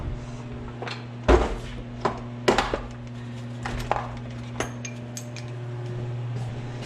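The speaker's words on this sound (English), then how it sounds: "Let's get out some of our other sockets." Metal ratchet sockets are taken out and handled during a Kubota oil change, giving a scattered series of sharp clanks and clinks of varying loudness over a steady low hum.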